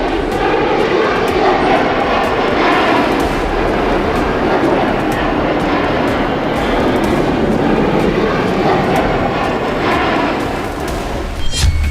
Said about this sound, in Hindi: यह है रूस का Tu-142।